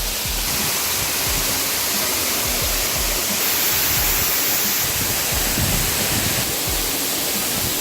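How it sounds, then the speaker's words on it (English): Steady, loud roar of a waterfall on a Hawaii hiking trail, heard up close as a dense, unbroken wash of falling water with no voices. "Made it to the second waterfall."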